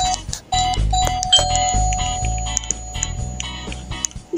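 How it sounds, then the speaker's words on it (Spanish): Doorbell ringing in the Roblox video game, repeated electronic chime tones over a steady low hum of game music. "Toca el timbre."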